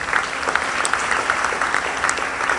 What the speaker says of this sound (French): Acclamons ce premier point.